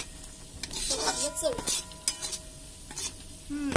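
Spice masala for a dry Marathi eggplant dish roasts in a pan, with soft sizzling and intermittent scraping stirs and utensil clinks, fairly quiet and close.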